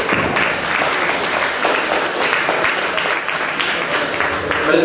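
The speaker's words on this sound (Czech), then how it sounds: "já si myslím, že to chce potlesk" Steady, dense applause from a club audience fills the whole stretch, loud and continuous with no talking over it.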